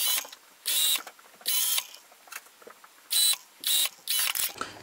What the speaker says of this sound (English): So this time I'm going to sew really close to that fold.